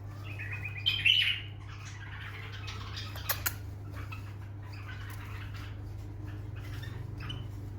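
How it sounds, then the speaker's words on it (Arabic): A small bird gives a few bright chirps and tweets, loudest near the start, over a low steady hum in a quiet indoor space. "هذا الطير."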